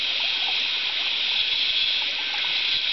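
Steady rushing and babbling of a flowing stream, constant and fairly close, with no other sounds over it.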